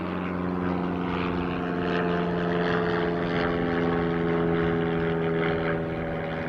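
A propeller airliner flies in to land at Christchurch, a steady loud droning engine hum with tonal bands that holds evenly throughout with no talk.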